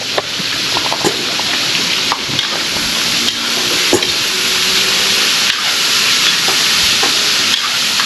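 Food frying loudly in a pan, a steady dense sizzle and hiss with occasional crackles and stirring clatter throughout, no voices.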